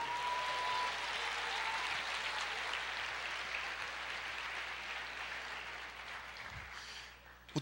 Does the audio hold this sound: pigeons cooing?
no